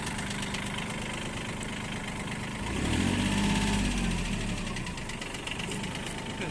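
A Mitsubishi MT16 mini tractor's small diesel engine idles steadily with a chugging rumble, briefly swelling louder and deeper midway before settling back to its even idle.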